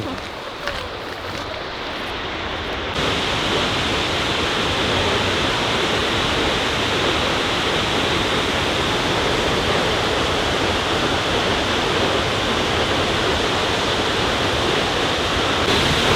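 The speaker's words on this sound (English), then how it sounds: "So this waterfall is actually 65 meters high" Roar of Seljalandsfoss, a 65-metre waterfall in Iceland, heard as a loud, steady, broadband rush that swells in after a few seconds of quieter outdoor ambience and then holds constant and close for the rest of the clip.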